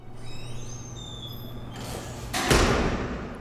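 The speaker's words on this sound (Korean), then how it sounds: "이어지는 육중한 문소리" Heavy door in the Korean film Janghwa, Hongryeon: thin eerie tones give way to a rising whoosh and then one deep, loud door thud that rings and fades.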